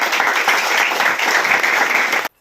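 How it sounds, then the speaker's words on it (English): An audience applauds at a university motivational talk, with dense, loud clapping that holds steady for about two seconds and then stops abruptly. "So let's clap."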